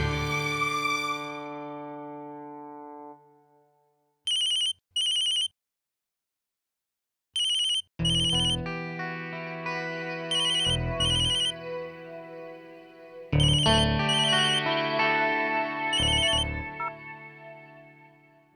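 A phone ringtone plays during a call in a Hindi TV drama scene: a melodic electronic tune with gaps and short repeated beeps, loud and close, with no speech over it.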